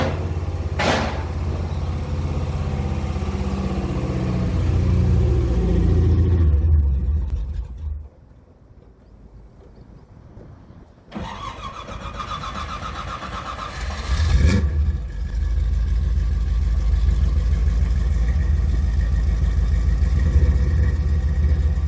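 A Porsche 944 race car fitted with a Chevy small block V8 rumbles loudly nearby, drops away briefly, then fires back up and revs as it drives off, its engine growling steadily.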